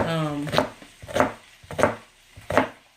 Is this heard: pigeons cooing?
no